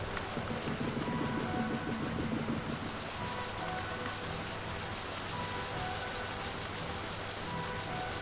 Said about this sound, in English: it has to be absolutely gushing it down with rain as well